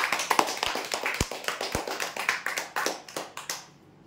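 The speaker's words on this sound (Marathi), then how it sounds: "जोरदार टाळ्या देण्यासाठी." Crowd applause for prize winners announced at a weekly lucky draw event, a steady burst of many hands clapping with a few sharp individual claps standing out, fading away near the end.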